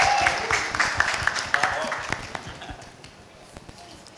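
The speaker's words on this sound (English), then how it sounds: "can we have a huge round of applause for the entire cast and crew of Mirzapur?" Applause rises at a press conference for the cast and crew of a 2018 series, a crowd clapping briskly at first and then thinning and fading over a few seconds, with some talk over it.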